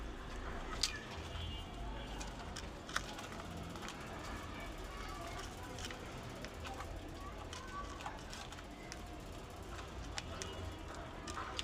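Pet pigeons coo softly in a quiet loft, low murmuring calls with faint rustling and an occasional tap, heard from close by and at low volume.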